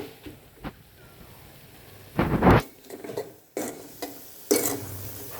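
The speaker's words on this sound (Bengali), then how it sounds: "আমরা ভালোভাবে নাড়িয়ে নেব।" Noodles with egg and spices are stirred in a pan, giving several separate bursts of scraping and tossing with quiet gaps between them, close and without talk.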